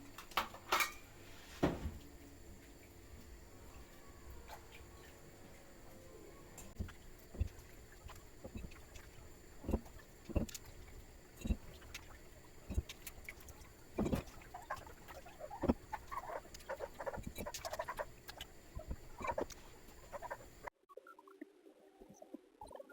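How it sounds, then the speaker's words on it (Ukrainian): Plums dropped into clean, soda-washed three-litre glass jars for compote, giving scattered light clinks and knocks of fruit against glass, repeated irregularly throughout at close range with no talk. "Тому я зараз буду заповнювати сливками."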